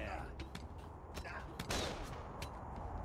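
Gunfire in the video game Project Winter: several sharp, spaced shots crack over a low background, with one louder burst near the middle and a voice faintly present.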